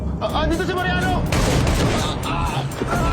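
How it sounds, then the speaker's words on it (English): Gunfire rings out in a tense movie scene involving dirty cops near parked cars, with loud shots and a bang landing under a voice talking continuously over dense, noisy scene audio. "The sudden gunshot caught the other dirty cops off guard"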